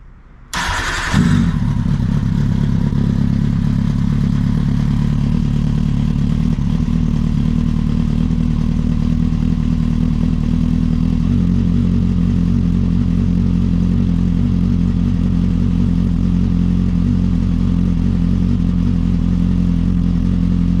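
A 2007 Kawasaki Ninja motorcycle on its stock exhaust fires up from cold with a sharp start, then settles into a steady, loud, close idle that runs on alone for about twenty seconds.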